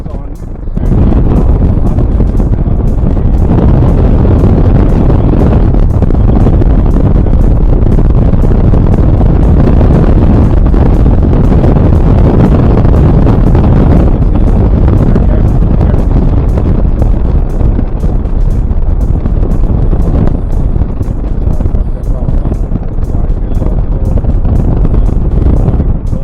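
Loud, constant wind buffeting on an action camera microphone with wind reduction switched on, a dense roar that runs the whole time and drowns out everything else.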